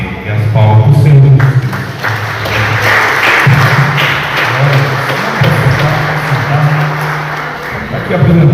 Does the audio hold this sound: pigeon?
no